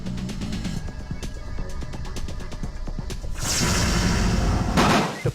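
Rapid gunfire in a video game rattles off in a fast sequence of sharp cracks and thumps, then gives way to a louder, broad blast and rumbling debris as a wall breaks apart.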